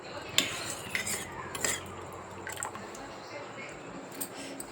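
A spoon clinks against a bowl while water is stirred into a fruit salad mixture, sharp metallic taps and scrapes at close range with a soft liquid swirl, under a quiet kitchen background.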